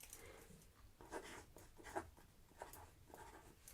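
A pen scratches on paper while writing down a cash amount for a savings budget, a quiet series of short scribbling strokes close by, with no speech.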